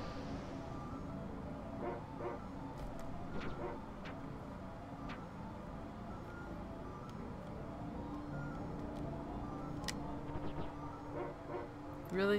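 In the SNES video game Secret of Evermore, a dog yips and barks in short, repeated bursts over continuous game music and effects, with no talking.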